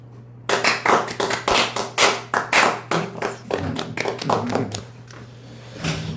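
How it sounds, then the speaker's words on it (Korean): A small group claps for someone in an indoor talk setting, a run of distinct, fairly even claps that thin out and fade, with a steady low hum underneath. "우선 자 이분께 박수."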